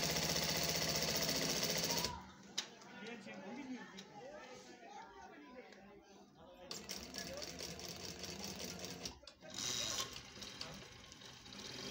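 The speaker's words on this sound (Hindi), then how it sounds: "सबसे पहले आपने पैर की सिलाई लगा लेनी है। ये डबल सिलाई है" Sewing machine running a double line of stitching with silk thread on a front placket, a steady loud mechanical hum that stops abruptly, leaving quieter fabric handling with some talk, then starts again near the end.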